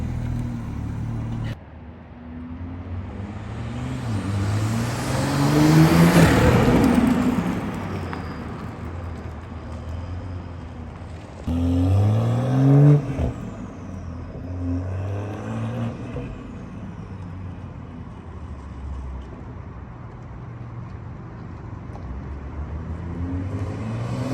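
A BMW M340i with an aftermarket air intake revs loudly twice, each rev swelling up and falling back, with a steady idle rumble between them.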